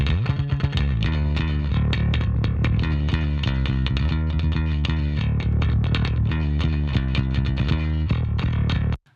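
Bass guitar run through an OTTO Audio Heavy Compressor with distortion mixed in, playing a punchy, thick riff of rapid plucked notes that stays loud and dense, then cuts off abruptly at the end.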